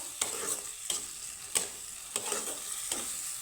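Onion and spice paste, with garlic and a tomato, frying in a pan while being stirred: a steady sizzle broken by several sharp scraping stir strokes at a fairly even rhythm, close and alone without talk.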